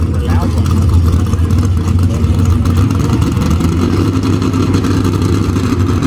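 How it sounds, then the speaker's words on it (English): A 4,500-pound small block 4x4 truck engine roars at the Franklin County Fair, a loud, steady, continuous drone held throughout with little change in pitch. "Here comes the truck from just over on the other side of 30"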